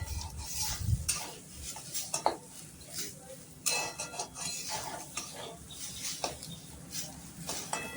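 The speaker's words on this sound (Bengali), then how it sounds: "ভালো করে নেড়ে চেড়ে নিয়ে বেশ ডালটা একটু ভাজা ভাজা করতে হবে" Dal being stirred and fried in a pan, with a spoon scraping and clinking against the metal at an irregular rhythm over a soft background sizzle, heard close up with no talk.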